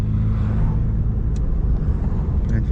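A Chevrolet Corsa 1.4 with its original engine and a sport exhaust gives a steady, loud, deep idle rumble, running close and continuously with no talk over it.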